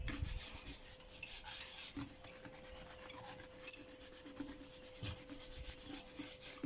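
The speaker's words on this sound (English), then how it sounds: "Remove dirt and dust and wipe clean." A cloth wiping dirt and dust off a window frame, with quiet, close, repeated rubbing strokes in an uneven rhythm over a faint steady hum.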